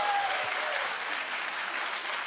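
Studio audience at a daytime talk show clapping steadily, a dense even wash of applause filling the room at moderate volume, with no voices standing out.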